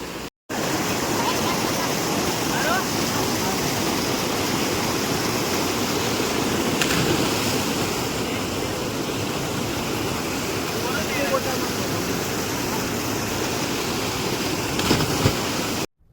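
River water at a village swimming spot rushes and burbles in a steady, close, continuous wash from start to finish, with no clear breaks.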